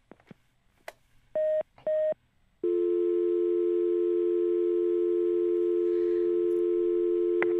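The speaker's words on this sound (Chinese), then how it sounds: "这位听众朋友他已经挂断电话了" A telephone line on a radio call-in show after the caller hangs up: two short beeps, then a loud, steady, unbroken tone that continues to the end.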